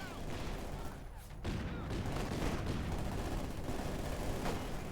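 Submachine gun bursts from PPSh-41s in a Company of Heroes 2 battle, sustained rattling gunfire mixed with distant explosions and battle noise, continuous and dense throughout without pause.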